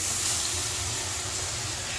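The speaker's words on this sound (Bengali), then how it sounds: "দিয়ে দিচ্ছি অল্প একটু জল।" Water poured into a pan of hot, sautéed potato and pointed gourd curry, a steady loud hiss and sizzle of steam rising and holding evenly throughout, with no talking.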